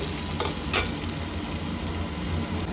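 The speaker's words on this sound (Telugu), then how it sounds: "ఒకసారి కలుపుదామండి. ఈ దోసకాయ ముక్కలు మగ్గేదాకా కాసేపు ఉడికించాలి." Ridge gourd pieces for dosakaya pappu cook in a pot, hissing in an even, close sizzle, with two quick utensil scrapes near the start before it settles into a steady fry.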